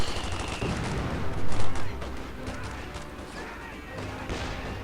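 Machine gun squad gunfire in Company of Heroes 2, heard as dense battle noise with a loud burst of impacts around the middle, steady crackling fire and rumble throughout.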